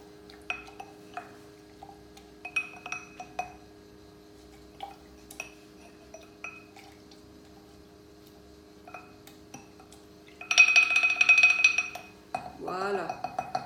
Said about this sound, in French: juste pour un petit peu mélanger, je vais quand même utiliser le pilon, mais très très légèrement